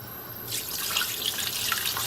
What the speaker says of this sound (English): And finally we're gonna add about 500 milliliters of water.